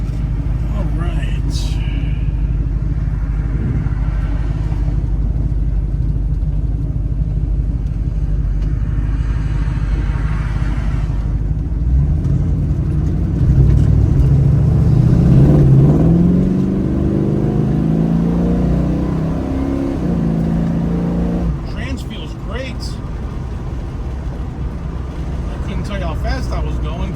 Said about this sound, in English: Acceleration is nice. I just did a rolling throttle.